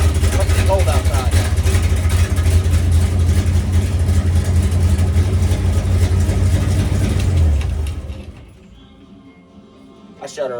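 An old Chevrolet C60 truck engine runs on a cold day, a loud, low, rough idle with a steady rumble that cuts off near the end, followed by brief quiet and a clatter.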